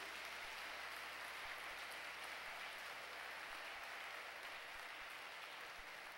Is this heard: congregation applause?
yes